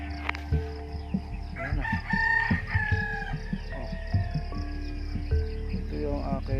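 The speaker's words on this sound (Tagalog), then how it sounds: "Yung mga manok din sa loob." Roosters crow and hens cluck on a farm in the months after Typhoon Odette, with loud, close crows rising over a constant chirp of crickets, and a voice briefly speaks.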